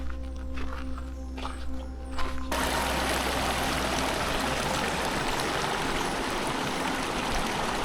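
A mountain river high on the Everest Three Passes trek at over 5,100 metres, heard as a steady, moderately loud rush of flowing water with no speech, and a quieter patch of water sound before the flow swells and fills the rest.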